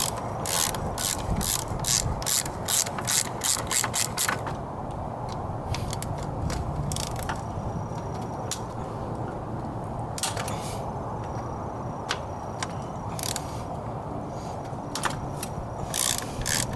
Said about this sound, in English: I'm using my universal socket to take these two bolts out.